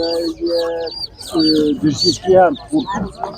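Chicks and chickens peeping and clucking nearby at an animal market in Nadvirna, Ukraine, busy overlapping calls in short bursts.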